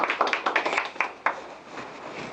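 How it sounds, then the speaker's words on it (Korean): Clapping from a seminar audience welcoming a patent attorney to the stage, a short burst of scattered individual claps that quickly thins out and fades. "박수 한번 부탁드리겠습니다"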